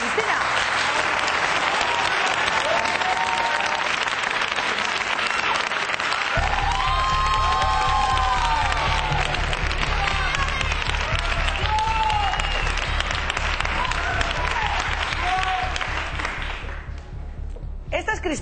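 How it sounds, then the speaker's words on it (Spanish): Studio audience applause on a Spanish television talk show, loud and sustained, with cheering and voices mixing in as the clapping continues, then fading slightly near the end. "Un aplauso para Cristina."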